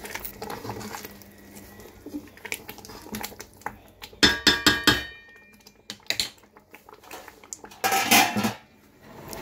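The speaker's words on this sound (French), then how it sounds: "Et là, j'ajoute les oignons." Chopped red and yellow onions going into a pot of cooked-down tomato: close, loud clatter of a metal utensil knocking against the pan in several sharp bursts, with some scraping and no talking.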